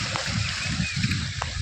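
Irrigation water overflows a field tank and splashes out onto the ground in a field with guar crop, a continuous close sloshing and splattering with rhythmic surges.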